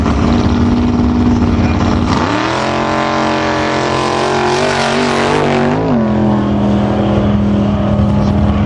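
Drag race run pitting a 451 cubic inch Dodge-powered car against a Chevy Silverado or Sierra truck: loud, sustained engine roar with a rising, shifting pitch that climbs, dips around mid-run and holds steady, continuous and close throughout.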